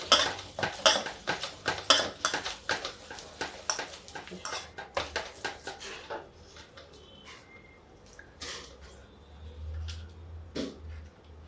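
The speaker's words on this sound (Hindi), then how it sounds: "ये देखिए, अब इसको फिर मिक्स करते हैं।" A spoon scrapes and clatters rhythmically against a bowl while moong dal batter is mixed after baking soda goes in, fast repeated strokes that slow and fade into sparse clinks and soft rustling near the end.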